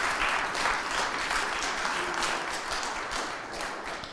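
A room of people at an annual meeting claps steadily, a fairly distant wash of applause that holds an even level for the whole stretch, with no voices standing out.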